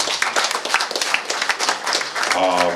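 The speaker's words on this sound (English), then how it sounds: "a round of applause for Z." Audience at a baseball awards event applauds, a dense wash of clapping that swells near the end, with a voice talking over it.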